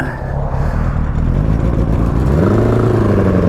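A 1983 Honda CB1000 custom motorcycle engine idles loudly and unevenly, running rough, its low rumble sputtering and surging without settling into a smooth note.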